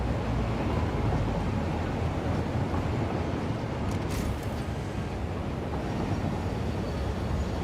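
An iron train in a factory-building video game, a single engine pulling nine heavy cars, rolls along in a steady, dense rumble with a broad wash of noise that holds level throughout and no voices.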